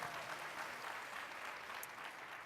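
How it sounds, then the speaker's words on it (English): Conference audience applause for a guest, a steady, even wash of many hands clapping throughout this short moment, moderately distant with no voices over it. "So round of applause for our guest."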